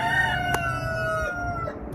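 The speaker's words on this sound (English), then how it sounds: "It's a chorus of roosters." Several roosters crowing together outdoors in October, their long overlapping calls ringing out loud and clear against a steady background rumble.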